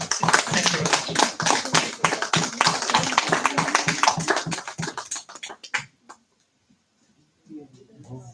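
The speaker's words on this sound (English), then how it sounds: "everyone please give the presenters a round of applause" Conference audience applauds the presenters, a dense run of claps heard up close that thins out and stops before a faint voice.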